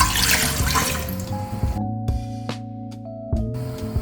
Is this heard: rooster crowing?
no